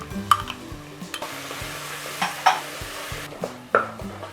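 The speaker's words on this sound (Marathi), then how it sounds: "याला आता थोडंसं तेल सुटेपर्यंत आपण हे परतून घ्यायचं आहे" Grated coconut, turmeric and asafoetida sauté in hot oil for veg kurma, a soft steady sizzle broken by scattered light clinks of a spoon against the pan, close by and without speech.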